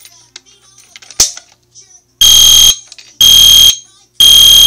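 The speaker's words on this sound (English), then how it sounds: "It's a two-wire horn strobe" A piercing two-wire fire alarm horn strobe, triggered by a pull station, blasts in three loud bursts with short gaps between them, following a few faint clicks and a sharp tap.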